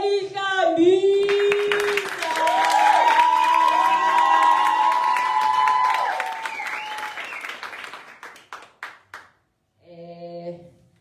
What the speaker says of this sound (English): A round of applause for Sponiseni Kambisa.